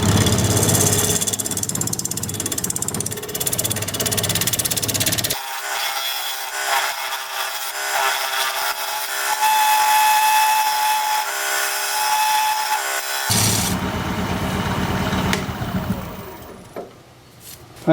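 A wood lathe turns a fancy pedestal while a tool cuts a tenon: a steady, close whine with hissing, scraping cuts that shift in tone partway through, then trail off near the end.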